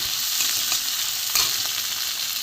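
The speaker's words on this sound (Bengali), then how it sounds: "একটু ভালো করে ভেজে নেব" Fish filling for a fish chop, with onion and salt, sizzles steadily in hot oil, a continuous bright frying hiss with faint stirring scrapes and no voices.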